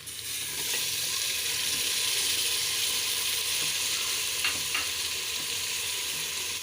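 Tomatoes and green chilies frying with ginger and garlic in a pan, a steady close sizzle throughout with a couple of brief stirring clicks near the end.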